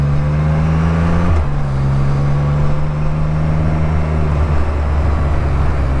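A small Ford car following close behind a three-wheeled Can-Am Spyder F3-LTD motorcycle, its steady engine drone blending with wind rush and the motorcycle's own hum, with a slight shift in pitch partway through.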